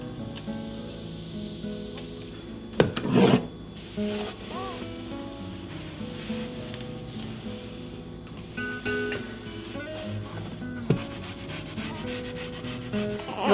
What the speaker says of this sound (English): You'll see me doing a lot of scraping on the countertops